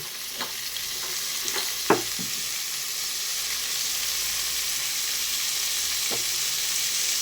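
Vegetables and tomato sautéing with rock salt in a pan for sambar rice: a continuous sizzle, with a handful of utensil knocks early on and one more near the end.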